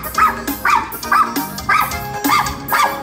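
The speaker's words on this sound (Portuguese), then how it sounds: "Lá vem o cara passando com o cachorro ali." A dog barks repeatedly in front of a multi-brand shop as a man walks it past, about six loud, close barks in a steady rhythm with no talk over them.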